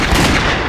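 A video game gunshot bursts loud and close, a short, harsh, saturated blast filling the whole moment.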